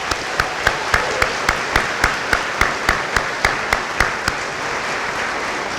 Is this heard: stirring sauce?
no